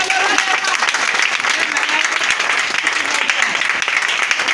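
A church congregation cheers and applauds for the Lord with loud, sustained clapping that fills the whole stretch, with voices rising through it.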